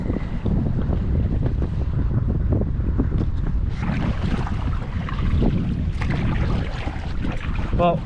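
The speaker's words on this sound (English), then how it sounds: "Well, it is pretty windy today," Gusty wind buffets the microphone while out on the water in a kayak, a continuous rough rumble with splashes and paddle noise, close and loud throughout.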